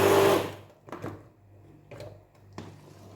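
A kitchen machine shreds food, opening with a loud, dense burst of grinding that quickly drops away, then returns as a few short, fainter pulses over a low motor hum.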